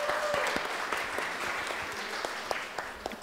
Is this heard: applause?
yes